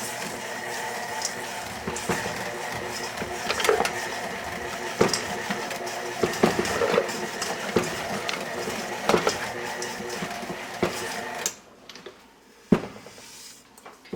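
A KitchenAid stand mixer beats store-bought cookie dough with shredded unsweetened coconut, giving a steady whirring motor drone with scattered knocks and clicks that cuts off near the end, leaving quieter handling noises.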